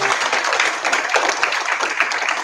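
An audience at an awards gala claps steadily in a dense, continuous patter of applause from start to finish.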